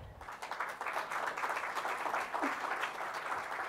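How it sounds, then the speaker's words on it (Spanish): A symposium audience on religious freedom applauds in welcome, steady dense clapping filling the room at moderate level for several seconds, with no voices over it. "Les recibimos con un aplauso"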